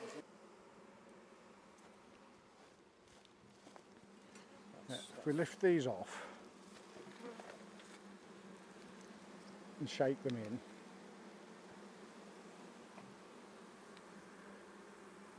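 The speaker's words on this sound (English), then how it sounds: "that's a lot of bees" Steady low buzzing of a large mass of honeybees from a small colony living in a bird box runs throughout, with a person speaking briefly over it and a few handling noises.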